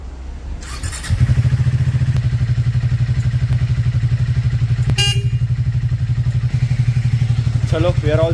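A Triumph Speed T4 motorcycle idles close by after starting, its single-cylinder engine thumping in a steady, rapid, even rhythm with a brief metallic click midway and a voice speaking near the end.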